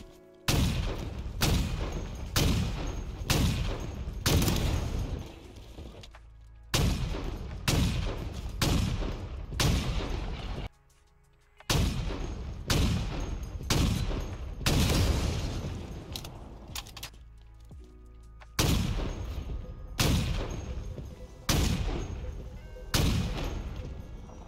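Sniper rifle shots from Halo Infinite strike a Ghost vehicle, sounding as sharp, loud bursts fired in quick rhythmic groups of four or five, separated by brief pauses.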